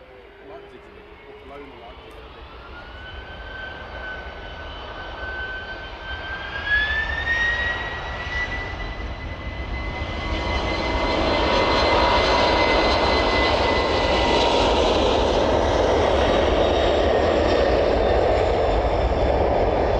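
A DHL Boeing 767 lifts off runway 09 at East Midlands Airport in the evening, its jet roar building steadily from a distant rumble into a loud, sustained blast while someone comments over it.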